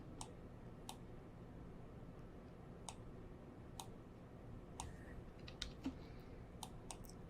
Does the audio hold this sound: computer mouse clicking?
yes